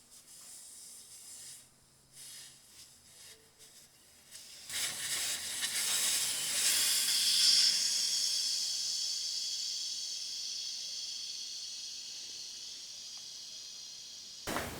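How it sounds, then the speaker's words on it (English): Air rushes out of a disconnected air spring hose on an Audi A8 suspension, a loud steady hiss that starts abruptly after a few quiet seconds and slowly tapers off, with no talk. "all the connections have been removed, the air hose has been disconnected"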